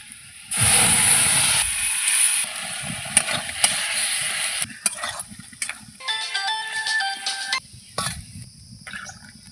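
Onions fry in hot oil with a bright, loud sizzling hiss for a few seconds, then quieter crackles, clinks of stirring and a short high ringing tone.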